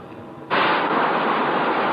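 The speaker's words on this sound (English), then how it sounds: "That sound you just heard was the decompression." A sudden loud broadband whoosh of rushing air bursts in after a quieter hum and holds steady as a submarine decompresses, like pressurized air venting inside a sealed vessel.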